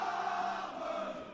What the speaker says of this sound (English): I don't think we need to say much when the crowd's like this